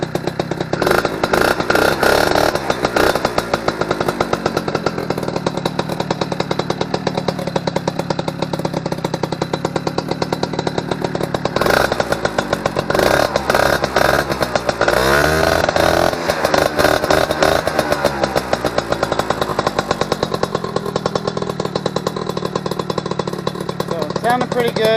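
An Eton Viper 90R two-stroke engine, recently upgraded and just off choke after a cold start, idles loudly and continuously with a rapid buzzing rattle and a few small revs.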